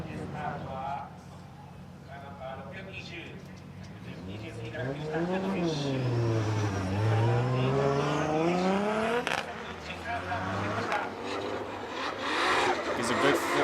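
A drift car at Suzuka Twin Circuit in qualifying sweeps past with a rising and falling engine whine, revs swelling loudly mid-pass, all beneath continuous excited race commentary.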